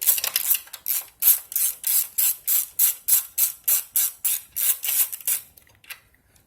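A ratchet wrench loosening 10 mm bolts during Nissan Leaf battery module removal, with a rapid, even series of about eighteen close clicking strokes that stop near the end.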